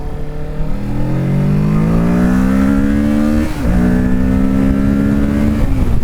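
A Kawasaki Ninja 650 motorcycle accelerates hard up close, its engine note climbing steadily, dipping briefly at a gear change, then rising again loud and alone.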